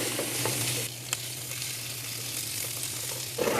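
Meat for jambalaya sautéing in a hot pan, a steady close-up sizzle with occasional stirring scrapes and pops.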